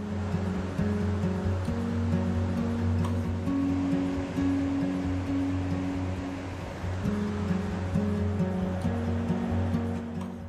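Rushing water of Kootenai Falls on the Kootenai River in Montana, taken in from a bridge over the lower falls: a steady, loud broadband roar with a low droning hum underneath, continuous throughout.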